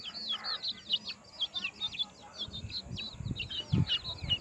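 Hens and chicks at a rural home in Maharashtra cluck and chirp steadily throughout, with short bird calls repeating over low household noise and occasional thumps near the end.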